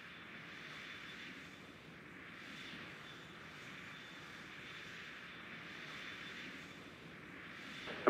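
Airliner jet engines roar during takeoff from runway 25 right. A steady, moderately distant rushing drone swells and fades slightly, then rises sharply at the very end, with no talking.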